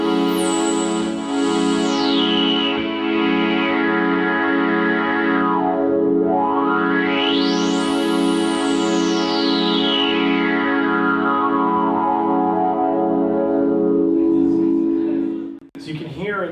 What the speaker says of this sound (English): The resonance, on the other hand, is a point determined by the cutoff knob here, where the sound is amplified to a certain extent